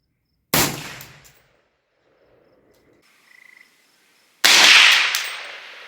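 Two loud, sharp gunshots from a short-barreled AK-47 rifle striking a level 4 body armor plate, separated by about four seconds of quiet with faint insect chirps in between; each report is a close, cracking blast with a short decaying tail.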